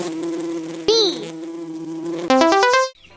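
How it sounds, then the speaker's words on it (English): Cartoonish bee buzzing from a kids' animal sound quiz, a steady synthetic drone broken by a short swooping whistle and ending in a quick rising run of plucked notes before cutting off. "Yes, that's right. It's the bee."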